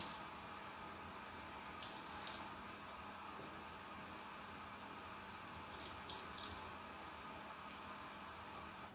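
A kitchen tap runs cold water steadily for chocolate chip cookie dough, a continuous even hiss of flowing water near the sink with a few brief splashes.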